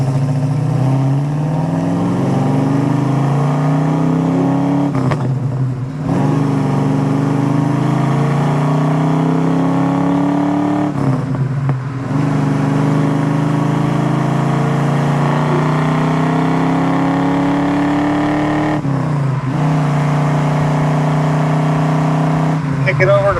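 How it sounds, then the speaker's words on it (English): A restored 1969 Chevrolet Chevelle SS with a 454 big block, aftermarket headers, full dual exhaust and a 5-speed pulls through the gears on the road, its loud, deep exhaust rising in pitch through each gear, with short dips at the shifts. "So you do have a really nice set of aftermarket headers, full dual exhaust, mufflers sound good coming out the back."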